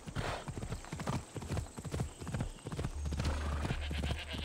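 In the video game Assassin's Creed Odyssey, horse hooves clip-clop in a steady rhythm, close and clear, followed by a horse's whinny near the end.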